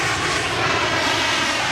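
An airplane landing on a runway, a loud, continuous engine roar that stays close and steady without a break.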